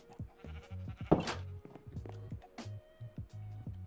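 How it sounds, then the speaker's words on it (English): Minecraft farm animals, chickens and cows, make a busy run of short repeated bleating and clucking calls with soft thuds between, fairly quiet and continuous throughout. "My chickens and my cows are making a lot of noise."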